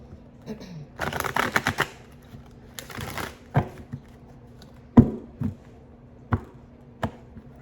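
Tarot cards being riffled and bridged in two quick bursts, followed by several sharp taps as the deck is squared on a surface.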